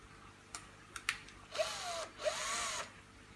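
A fine 3 mm bit driven by a small drill boring a pilot hole: a few short clicks, then two brief high whirring bursts with rising pitch, close and fairly quiet.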